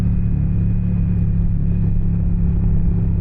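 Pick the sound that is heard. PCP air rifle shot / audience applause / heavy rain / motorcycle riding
motorcycle riding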